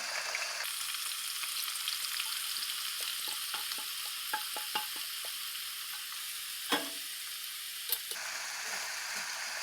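Spring onions frying in a pan for a Kashmiri-style dish, a steady close sizzle with scattered crackles and a few sharp stirring clinks, no talking.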